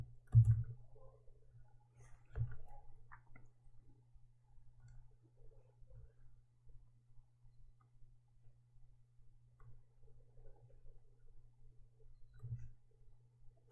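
Computer mouse clicks while coding a JavaScript game, a few sharp taps spaced seconds apart in a quiet room, close and distinct over a faint low hum.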